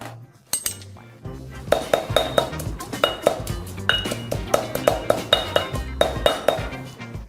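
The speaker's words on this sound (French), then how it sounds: "Piment rouge, sec et sel. Écrasons-les jusqu'à obtenir une poudre fine." Dried red chili and salt pounded into fine powder for a Northern Thai pork curry, heard as a steady run of sharp, ringing knocks of pestle on mortar, close and fairly loud, with some clinking and no talk.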